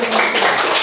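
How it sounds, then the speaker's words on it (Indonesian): A classroom of students claps for the third group, a short, loud burst of dense clapping close by that cuts off abruptly. "beri tepuk tangan kepada kelompok 3"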